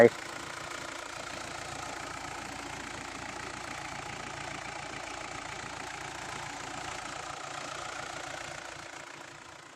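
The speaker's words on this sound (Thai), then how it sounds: "มาลองฟังเสียงเครื่องยนต์ก่อนค่อยตัดสินใจ" A diesel pickup engine idles steadily with a low, even rumble and faint knocking, running on without change for several seconds.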